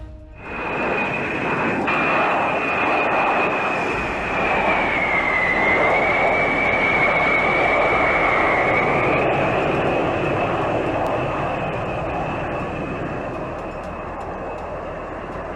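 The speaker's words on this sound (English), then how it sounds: "the military has released video showing the moments just before a C-17 crashed in July in Alaska" A C-17 military transport aircraft flying in Alaska shortly before a crash: a loud, steady jet engine roar with a sustained high whine that shifts slightly in pitch, continuous for about fifteen seconds and easing off a little toward the end.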